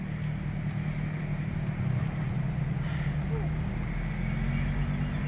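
Steady low rumble of road traffic near a trailhead in the Great Smoky Mountains, a continuous broad engine and tire drone with wind noise, constant and fairly close throughout.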